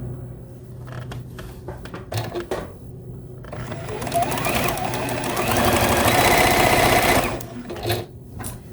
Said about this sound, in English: I am going to backstitch here.